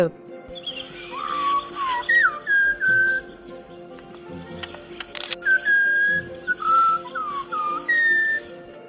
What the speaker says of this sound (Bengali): এটা এটা পাখিদের শীষ ধ্বনি ইংরেজিতে একে হুইসল বলে